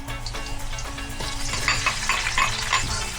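Chopped onion and garlic sauté in oil in a pan, giving a steady close sizzle with scraping stirs and light clinks of a utensil against the metal, continuous throughout without speech.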